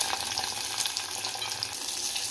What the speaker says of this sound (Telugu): ఎల్లిపాయలు కాస్త కలర్ చేంజ్ అయ్యాక ఉల్లిపాయలు, వంకాయ, అలాగే పచ్చిమిర్చి అన్నీ వేసేసుకుందాము.